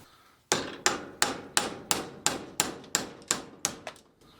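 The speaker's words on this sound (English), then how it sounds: "we're going to try the hammer method first, and I am going to use the vise, but just as like something to hold it against" A hammer strikes a Jeep JK axle U-joint braced against a vise, about eleven sharp, loud metallic blows in a quick, even rhythm, each ringing briefly.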